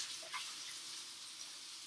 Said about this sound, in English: Okay, let's wash hands.